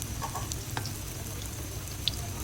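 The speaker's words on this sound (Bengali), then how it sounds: "অল্প আগুন দিয়ে এভাবে আমি ভেজে নেব একেবারে মুচমুচে করে।" Breadcrumb-coated chicken donuts frying over low heat in a modest amount of oil, giving a steady, close hiss of sizzling with a few small pops and crackles and no talking.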